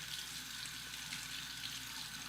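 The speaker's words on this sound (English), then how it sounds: "I'll temper it under the hot water" Hot water runs steadily from a tap over a Feather Popular safety razor, a continuous close hiss and splash with no talking.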